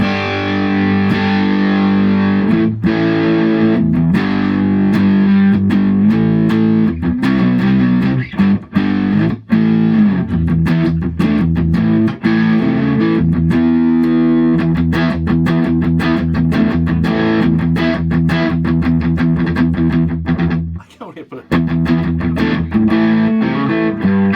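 An electric guitar plays through a handmade amplifier with the overdrive engaged, giving a thick, distorted tone as chords and riffs ring out loud and continuous with short breaks between them.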